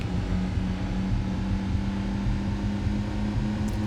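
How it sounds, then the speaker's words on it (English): A steady, droning race car engine hums continuously at a constant pitch, with no talking, a sustained low mechanical whine from the PS1 game Gran Turismo 2. "This car's engine sounds like a demonic chanting."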